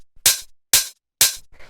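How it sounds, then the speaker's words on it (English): Short, tight and punchy hi-hat hits from a minimal house kit, made by trimming a longer open hat, three crisp bright strikes at a steady pace with a faint fourth tick at the end. "So we just get this quick, tighter, and punchier sort of hi-hat."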